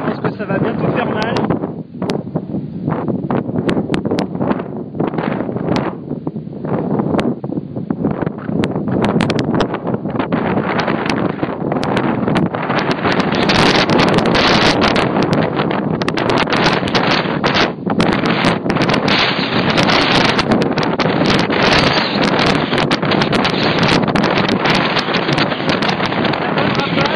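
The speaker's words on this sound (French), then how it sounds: "le vent commence à se lever" Strong gusting wind buffets an outdoor microphone during a storm chase near Pommiers in the Rhône-Alpes, France, as a thunderstorm approaches, producing a loud, continuous roar with rustling, sometimes under a voice.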